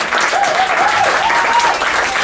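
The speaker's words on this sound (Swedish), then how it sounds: "Kan vi få en till applåd för arrangörerna" Audience applause at a stand-up comedy open stage show in Gothenburg, a dense steady wash of clapping from the crowd close and loud throughout, with a faint voice over it.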